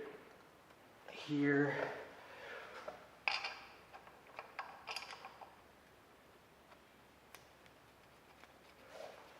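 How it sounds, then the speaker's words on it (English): A hand ratchet cranks bolts down on an engine assembly with quick clicking and creaking strokes, close and moderately loud, after a brief scraping clatter, with someone talking quietly throughout. "Hand crank these down."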